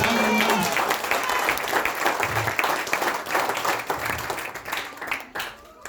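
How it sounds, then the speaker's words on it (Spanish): A church congregation bursts into loud, dense applause with many hands clapping together, fading slightly toward the end, with a voice speaking briefly through the clapping. "Da un fuerte aplauso al Señor en esta tarde, hermanos."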